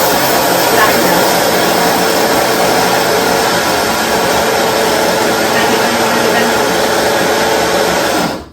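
An electric grinder whirs loudly and steadily as it grinds flaxseed into powder for overnight porridge, a continuous high whine that holds for about eight seconds and then cuts off abruptly.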